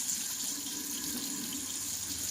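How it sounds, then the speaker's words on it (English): A bathroom tap runs in a steady, soft stream into a sink, a continuous close splashing hiss with no talking. "so I'm gonna run this water"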